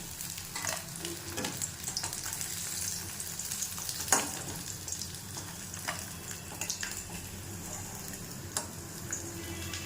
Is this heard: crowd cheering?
no